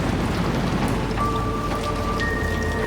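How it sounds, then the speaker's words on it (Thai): Steady, dense rain pattering on a surface in the video game Little Nightmares III, constant and fairly loud, with faint tonal hums running underneath. "เสียงน้ำปะฝนเนี่ย"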